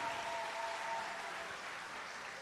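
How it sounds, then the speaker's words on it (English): Audience applause for a group of collaborators at a community impact event in Curaçao, a steady wash of clapping held at a moderate, fairly distant level for the whole stretch with a faint tonal sound early on. "A very warm applause for all of them."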